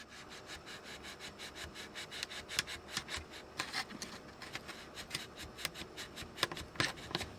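A blade saws through model material during an RQ-7 Shadow model build, a quiet, steady rasp of rapid back-and-forth strokes heard close up with no talking.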